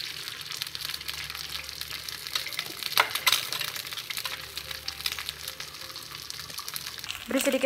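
An egg frying in a little cooking oil in a wok, a steady close hiss and crackle of sizzling fat that runs throughout, with a brief clatter near the end.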